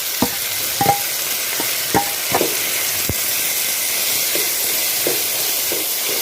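Chopped onions and tomatoes sauté in a pan for spicy egg rice, a loud continuous sizzle broken by irregular scraping clacks of a spoon stirring.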